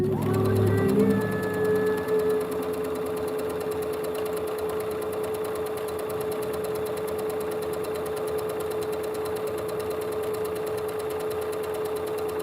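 Sewing machine running steadily at home, a continuous mechanical whir with a faint tonal hum that starts with some louder clatter and then settles into an even drone throughout.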